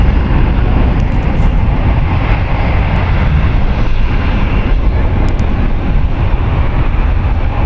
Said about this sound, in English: That is Delta Airlines Flight 324 going to ATL. It's a Boeing 757-300